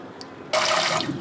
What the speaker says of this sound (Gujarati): ઉપરથી ઠંડુ પાણી થોડું રેડી દેવાનું